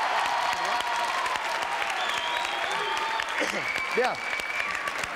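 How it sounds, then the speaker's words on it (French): A television studio audience gives loud, sustained applause for a guest. The clapping holds steady throughout, and a voice briefly speaks over it near the end. "Applaudissements pour le professeur Zouzoun."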